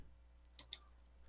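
Two quick, crisp clicks from a computer keyboard, close but faint, over a quiet low hum with no talking.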